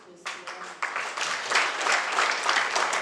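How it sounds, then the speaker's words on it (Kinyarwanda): A church congregation breaks into applause, the clapping starting with a few sharp claps and quickly swelling into dense, steady applause that carries on to the end. "Mu mpera amashyi Imana amashyi ya twese."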